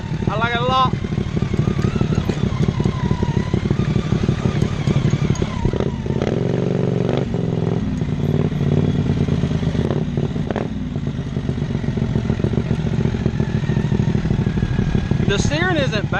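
A 670cc V-twin Manco Deuce go-kart engine runs loud and steady, its deep rumble rising and falling with throttle changes throughout, while a voice talks over it now and then.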